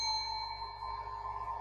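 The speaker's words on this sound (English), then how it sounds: "Okay, well, I ring the bell." A bell in the video game Deep Sleep rings with a steady, sustained metallic tone that hangs evenly at low volume, with no voices over it.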